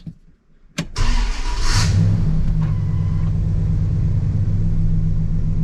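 A 1996 Dodge Ram pickup with a five-speed NV3500 manual gearbox starts up in a garage and rolls off, a sharp crank catching into a loud, steady, close engine rumble that holds to the end.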